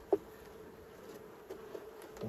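Honey bees swarm at a hive, giving a soft, low continuous buzz with a few faint knocks and taps against frames, quiet and close.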